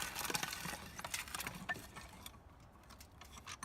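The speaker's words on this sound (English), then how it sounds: "Fill it up tight with chips, so you get a lot of pressure in there, and then hold it and grind away." A hand grinder packed tight with bark chips for bonsai soil turns with a faint, irregular crunching and grinding, quiet and close with no voices.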